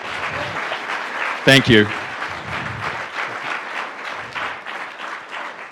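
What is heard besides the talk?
audience applause for the Attorney General and the Secretary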